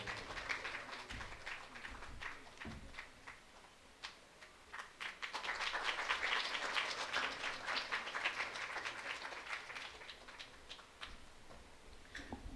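A church congregation claps during a flag-hoisting feast Mass for Saint Anthony, with scattered individual claps that swell into fuller applause midway before thinning out again, heard from a moderate distance.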